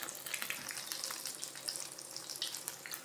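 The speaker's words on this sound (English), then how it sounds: "We got the oil, the pancakes frying in there." Crackling, hissing sizzle of a corn pancake, Korean street-corn style, frying in hot oil, a dense spatter of small pops at moderate level without talk.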